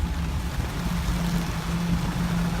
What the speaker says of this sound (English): engine's running very, very smooth